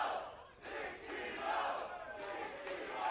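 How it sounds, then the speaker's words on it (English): Muffled esports arena crowd at a CS:GO finals match on Cobblestone roars and cheers in surging waves, distant and somewhat faint behind the broadcast. "You hear the crowds"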